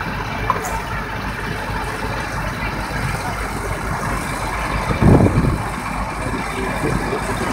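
A Case Steiger 535 pivot-steer tractor with a 535-horsepower engine runs with a steady, heavy diesel rumble, close and continuous, with a brief louder surge partway through.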